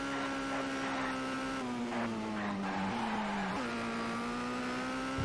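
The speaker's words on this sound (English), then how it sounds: "Bad enough the car got out of shape going up a hill." A Formula Ford open-wheel race car in the TOCA 2 Touring Cars video game, its engine holding a steady high whine with pitch dips as the car slides out of shape on a hill, tire squeal mixed in.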